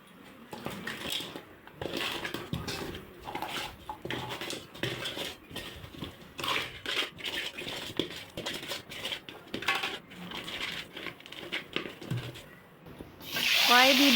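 A rohu fish head is rinsed under running tap water, with splashing, dripping and clattering of the fish and a metal bowl, ending in a stronger rush of water.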